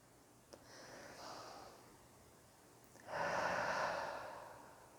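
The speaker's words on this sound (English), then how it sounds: "Take several deep breaths and exhale slowly to awaken your energy and to release old patterns." Slow, deep breathing: a soft inhale followed by a longer, louder breathy exhale, close and quiet with no talking.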